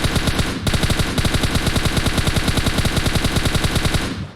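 Automatic rifle fire in the battle royale game PUBG Mobile, loud rapid bursts of shots in a steady rhythm with a short break early on, close and dominant.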